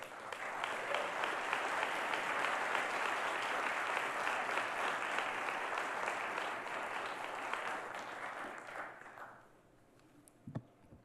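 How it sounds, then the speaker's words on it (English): An audience at a media-themed talk breaks into sustained, dense applause for about nine seconds. It then fades quickly to quiet, with a couple of faint knocks at the end. "So I hope you give him a nice round of applause."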